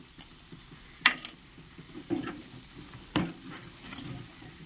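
Broad bean masala gravy being stirred in a pan, with a few sharp spoon clinks against the metal over a soft, steady simmering hiss, fairly quiet and with no talking.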